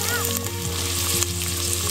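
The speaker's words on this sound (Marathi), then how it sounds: "कांदा छान परतून घेऊ आपण." Onion sizzles and sautés in a pan over a camp cooking setup, a dense steady frying hiss heard close throughout, with a low background hum and no talking.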